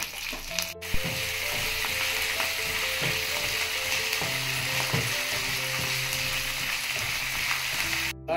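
Green chillies, dried red chillies, cumin seeds and curry leaves fry in hot oil with a steady, dense sizzle that runs loud and continuous throughout, punctuated by brief clinks and stirring scrapes, with no voices.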